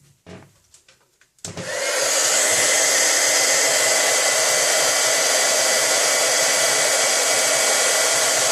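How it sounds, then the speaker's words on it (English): A heat embossing tool blows hot air steadily and loudly for several seconds, starting abruptly after a few faint handling clicks and holding a constant whoosh until the end with no talking. "now it's time to heat emboss"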